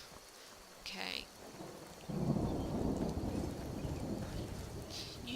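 Rain falls steadily in a forest in the Skyrim video game while thunder rumbles in low and heavy partway through, with a brief spoken word over the storm.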